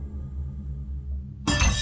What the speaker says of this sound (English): A piece of glass slides off the counter and shatters on the floor.